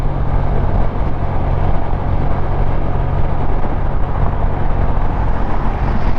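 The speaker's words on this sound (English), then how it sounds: "when the cars are hitting the grooves in the road, I can hear the noise of their tires" Steady, loud broadband roar of freeway traffic tire noise from cars crossing grooved pavement, heard while riding a Kymco AK 550 motorcycle, continuous with no talk.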